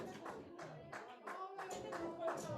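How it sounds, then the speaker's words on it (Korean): A church group claps together at the end of a children's program, steady rapid applause with bursts of hand claps filling the whole stretch, fairly close and even in loudness. "우리 이 시간 우리 박수 치면서 마치도록 하겠습니다"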